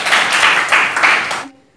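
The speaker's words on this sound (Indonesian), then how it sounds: "Tepuk tangan untuk Saripah dulu." A classroom applauds a student with a short, loud burst of clapping in a few swells that quickly fades out.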